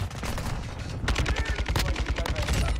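Rapid automatic gunfire in a video game, played on an Afterglow Prismatic Xbox controller, with dense, close, repeated shots in a fast stutter that continues almost without a break.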